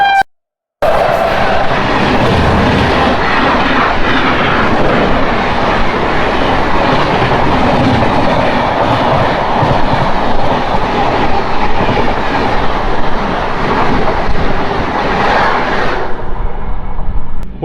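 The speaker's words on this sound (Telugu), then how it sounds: "ఇప్పుడు వెళ్ళింది కదా ఆ ట్రైన్ వచ్చేసరికి 1840 హౌరా మెయిల్" The Howrah Mail express train rushes past near Tenali in India, a loud, close, continuous rumble with rhythmic clickety-clack of wheels lasting over fifteen seconds before dropping away, with no talk.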